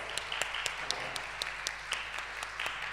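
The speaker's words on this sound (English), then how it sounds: "We want to give Leo a round of applause." A student union candidate question time audience applauds a Societies Officer candidate, many hands clapping in a steady patter with a few louder claps standing out, moderately distant in a hall.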